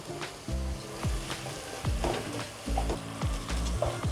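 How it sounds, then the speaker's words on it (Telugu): Ground paste being stirred into tomatoes frying in a pan for kuska, a steady sizzle beneath repeated scraping strokes of a spoon at close range, with no talk. "ఇందులోకి మనం ముందుగా గ్రైండ్ చేసి పెట్టుకున్న పేస్ట్ని యాడ్ చేసుకోవాలి. మొత్తం యాడ్ చేసి బాగా కలుపుకోవాలి."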